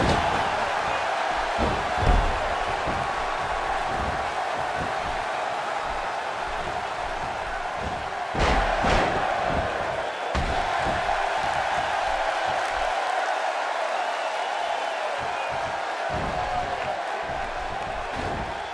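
Sold-out arena crowd in the wrestling game WWE 2K16, a steady roar of cheering that holds loud throughout with brief louder swells and a few sharp slams.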